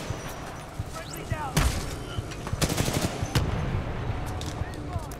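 Gunfire in the shooter game Titanfall 2, with bursts of sharp shots clustered midway through over a busy game backdrop while someone talks.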